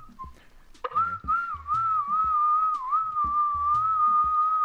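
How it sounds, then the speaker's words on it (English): A person whistles a wavering melody, a steady clear whistled tune held close and loud over rhythmic low beats of background music, with no talking. "Hey, let me whistle it for you."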